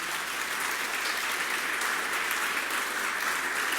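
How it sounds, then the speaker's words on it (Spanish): A church congregation applauds the theatre ministry with dense, sustained clapping that stays steady and full throughout, no voices standing out. "Démosle un aplauso, por favor, al Ministerio de Teatro."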